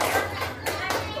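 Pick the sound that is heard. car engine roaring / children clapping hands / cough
children clapping hands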